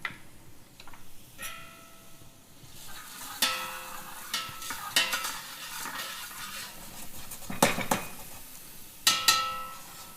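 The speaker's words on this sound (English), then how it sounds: "so the onions sweating already?" Chopped onions sweat in a pan during a fall comfort-food cooking demonstration, with a soft steady sizzle broken by intermittent clinks and scrapes of a utensil stirring against the pan.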